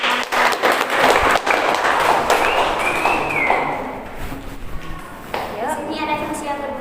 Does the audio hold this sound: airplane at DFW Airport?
no